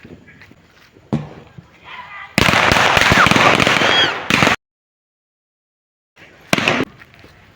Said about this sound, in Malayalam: അങ്ങനെ ഞാനും റംസും കൂടി അവിടെ പടക്കം പൊട്ടുന്നതൊക്കെ കാണുക കേട്ടോ